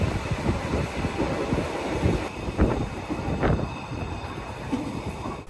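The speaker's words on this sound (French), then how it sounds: "Le train roule bien et sans bruit." A train on Borkum island runs toward the terminus, a steady rumbling ride with rattles and occasional clunks, heard from inside under a broad hiss of wind.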